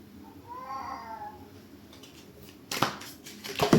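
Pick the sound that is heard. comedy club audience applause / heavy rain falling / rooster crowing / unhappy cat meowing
unhappy cat meowing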